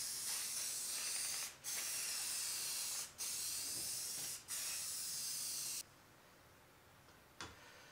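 Primer sprayed from an aerosol can onto a DIY desk piece in several long steady hissing bursts with brief pauses between, close and fairly loud, ending with a short final puff.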